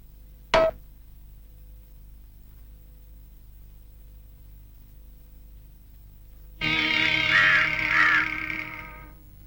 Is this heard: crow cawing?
yes